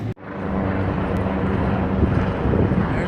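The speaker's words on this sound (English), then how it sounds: "There goes another helicopter." A helicopter passing overhead in an outdoor area, heard as a steady, broad engine and rotor rumble that holds at a fairly loud level throughout, with wind buffeting the microphone and no talk.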